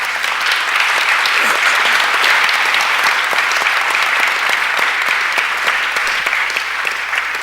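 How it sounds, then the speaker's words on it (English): Sustained audience applause at a panel discussion event, dense and steady clapping from a large crowd for the full duration, loud and continuous with no speech over it. "let's give our panelists a round of applause."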